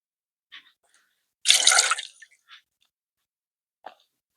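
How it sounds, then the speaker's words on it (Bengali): Soaked sago pearls are drained of water: a few faint, sparse drips and a short wet squishing splash, quiet and close with long silences between. "সাবুদানাটায় জল ঝরিয়ে নিতে হবে"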